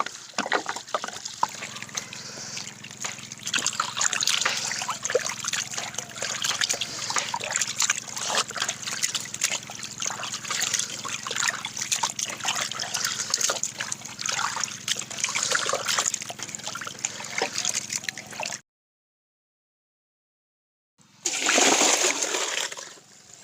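Raw meat washed with clean running water, a steady close splashing trickle for most of the time, then a brief silence and a short final burst of water.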